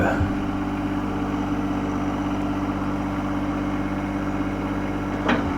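A John Deere 1025R compact tractor engine runs steadily at idle-like speed, a continuous low droning hum with even rumble throughout and one brief clank near the end.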